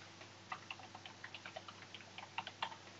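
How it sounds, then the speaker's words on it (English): Light typing on a computer keyboard, faint and somewhat distant, with irregular soft key taps over a low steady hum and no speech. "type in a new URL"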